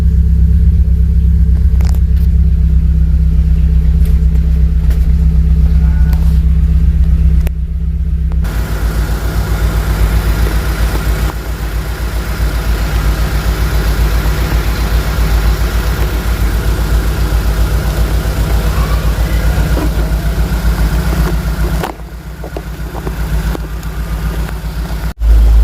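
A car engine idles steadily throughout during an alternator check on a car with a weak battery, a loud, continuous low rumble that shifts in tone partway through and dips briefly near the end, with no talking.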